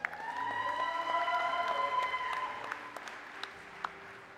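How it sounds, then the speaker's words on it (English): Scattered applause from a crowd at a college convocation ceremony, moderately distant, with a sustained tonal hum over it that fades out after a few seconds. "Now that's a cheering section."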